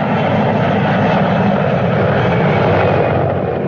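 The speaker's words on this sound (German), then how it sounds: "tiba-tiba helikopter oleng dan terjun ke laut" A search-and-rescue helicopter flies low over the sea before pitching over and plunging into the water. A loud, continuous, close engine and rotor roar holds steady throughout, with no pauses.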